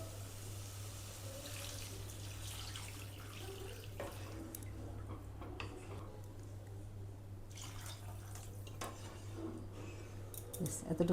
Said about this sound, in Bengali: এবারে আমরা এর মধ্যে জল দিয়ে দেবো।